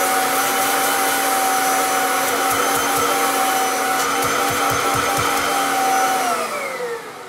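A Kirby vacuum cleaner runs with its hose attachment, making a loud, steady motor whine and rushing airflow with a few flutters, then begins spinning down at the end.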